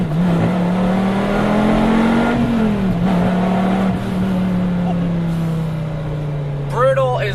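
A Dodge Viper GTS Gen V engine accelerating hard in first gear with spinning tires, a loud, steady low roar that climbs and then settles, with a short squeal near the end.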